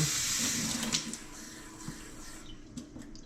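Water pours steadily into a pot of quinoa for a couple of seconds, then tapers to light splashes and drips; no one speaks.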